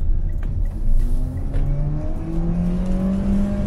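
A 2021 Mitsubishi Xpander Black Edition with a 1.5-litre engine and automatic gearbox accelerates, its engine note climbing steadily in pitch over road and tire rumble, heard from inside the cabin.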